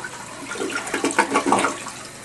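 A home toilet is flushed right after being unclogged, giving a short rushing gurgle of water that swells and drains away within about two seconds, close and alone.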